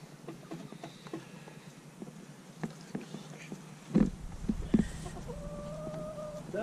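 Chickens cluck softly on a homestead in March, scattered faint clucks and a few sharper calls over quiet outdoor background noise.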